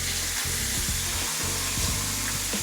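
Pork chops frying in a pan, a loud, dense, continuous sizzle close by with no talk.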